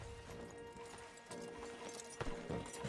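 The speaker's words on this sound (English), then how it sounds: "Marston, you're gonna tether him up to Javier's horse" Horses walking in the Red Dead Redemption 2 video game, soft clip-clop hoofbeats mixed with faint game ambience, fairly quiet and steady.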